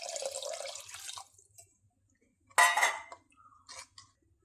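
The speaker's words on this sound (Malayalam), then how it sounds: "കുറച്ച് വെള്ളം കൂടി ചേർത്ത് കൊടുക്കാം" Water is poured into a pot of fish curry in one short splash after a stretch of quiet, with a few light clinks of utensils and faint drips trailing off.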